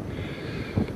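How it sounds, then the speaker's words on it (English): Strong wind roars steadily across a frozen beach on Cook's Bay, blowing snow along the ice, with a brief louder gust near the end and no voices. "It's so windy and blowing in snow"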